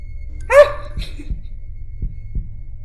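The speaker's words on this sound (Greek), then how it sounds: "έχει και καρδιοχτύπηση" A heartbeat in the horror video game Precipice: two pairs of low, dull thumps with short gaps between them, preceded by a brief higher-pitched yelp-like cry, over a quiet rumbling background.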